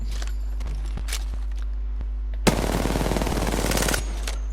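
Rapid bursts of gunfire from a video game shooting range, fired at practice dummies and a long-range target, start sharply and run as a dense fusillade for about a second and a half before stopping, with quieter isolated shots before.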